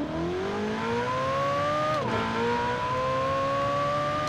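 A Ferrari 488 Pista in Forza Horizon 4 held at full throttle toward 4,000 RPM, its engine a steady loud drone that climbs in pitch, dips briefly at a shift, then rises again.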